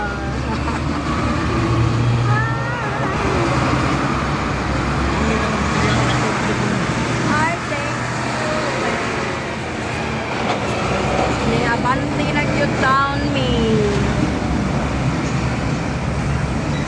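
Heavy road traffic in Cebu City rumbles continuously, engines droning with passing vehicles, occasional horns and rattling, loud and close, while people talk intermittently over the noise.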